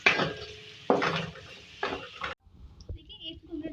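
Two medium onions dropped into hot oil in a karahi after potatoes were fried in it, heard as loud bursts of sizzling and clattering stirring in a pan, fading to quieter sizzle and clinks.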